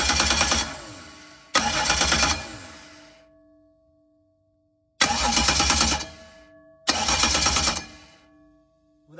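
A car engine is cranked by its starter and fires up four times in quick bursts, each dying away, with a short pause between pairs. It is close and clear, and the starter was refitted with a shim for ring gear clearance.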